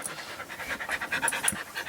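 A dog pants rapidly and steadily up close on a sailing boat, quick breathy huffs in an even rhythm with no talking.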